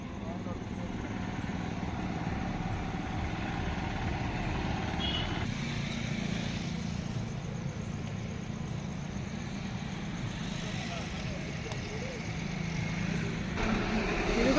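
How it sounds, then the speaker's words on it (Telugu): Steady road traffic on a bypass in front of a house, a continuous broadband rumble of passing cars and trucks that swells slightly near the end, with voices faintly mixed in. "మా ఇంటి ముందు గోల ట్రాఫిక్ తోటి రోడ్డు దాటాలన్నా మాకు చాలాసేపు పడుతుంది అన్నమాట."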